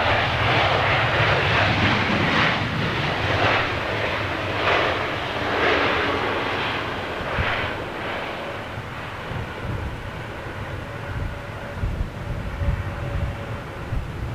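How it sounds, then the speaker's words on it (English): An Airbus A340-600 at London Heathrow produces a loud, continuous jet engine roar with pulsing, wavering rumble that slowly fades as the aircraft moves away. "That's my favourite aircraft, the A346"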